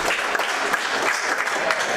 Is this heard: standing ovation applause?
yes